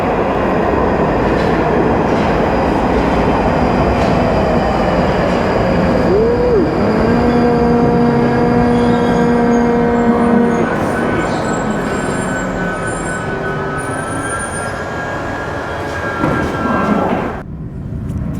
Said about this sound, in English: Alright, so here's a train for Morden.